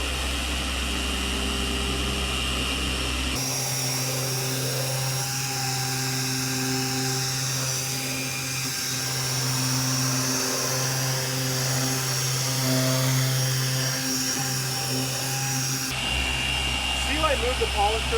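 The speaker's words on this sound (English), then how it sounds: "I move the polisher to be flat no matter what surface I'm on." Car polisher machine working paintwork with a steady motor whine and hum that shifts slightly under pressure, while someone talks over it throughout; a louder, harsher tone opens and closes the stretch.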